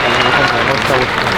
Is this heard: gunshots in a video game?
no